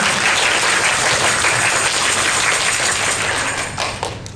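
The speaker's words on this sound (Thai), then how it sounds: "ปรบมือให้กับความเก่งกาจของเขาเลยนะ" Applause from the audience at a Bangkok press conference for the 2023 WOODZ world tour, dense, steady clapping that fills the room, then thins and tapers off toward the end with no one speaking.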